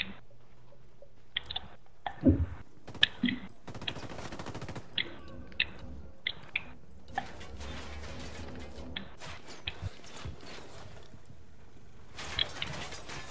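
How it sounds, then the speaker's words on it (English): Gunfire in the Ghost Recon Wildlands game, scattered sharp shots and short bursts cracking at irregular intervals, some near and loud, others faint and distant, with no talk. "Who's shooting?"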